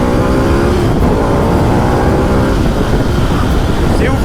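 A 2012 Ducati Multistrada 1200 S motorcycle accelerates hard, a loud, dense engine roar with a rough, continuous texture held at constant intensity throughout, heard close up with rushing wind noise.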